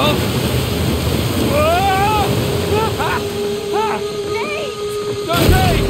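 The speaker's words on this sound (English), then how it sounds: "Waterfall! Waterfall!" Roaring, rushing waterfall from the Uncharted 4 video game, a loud broadband wash filling the whole clip while characters shout and call out over it.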